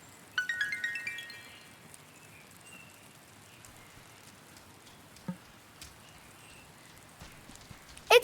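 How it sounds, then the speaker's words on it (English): Soft rain falls in the Wylde Flowers video game as a faint, even patter with a few brighter chimes near the start and occasional isolated drops. "It's raining!"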